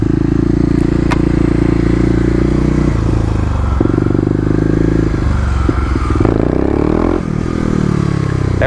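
A 2018 Kawasaki KLX250 dirt bike idles loud and close in first gear, then revs up repeatedly as the rider bounces the suspension for a stand-up wheelie, with clattering and scraping between the bursts of engine.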